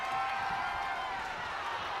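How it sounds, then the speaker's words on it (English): A wrestling arena crowd in WWE 2K25 screams and roars in a dense, continuous wall of noise that holds steady for the whole moment. "People screaming."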